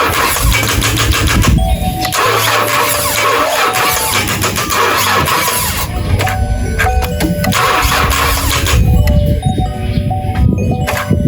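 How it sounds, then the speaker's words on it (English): A truck engine cranks and catches on a revived AC Delco battery. It is a loud, close mechanical churn that settles into a rough running rumble, with no voices over it. "we'll see if it will start the engine and it will not drop to 10 volts"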